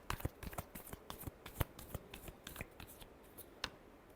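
A deck of tarot cards is shuffled close up, giving quiet, crisp flicks and irregular snapping riffles in quick bursts, with one sharper slap near the middle.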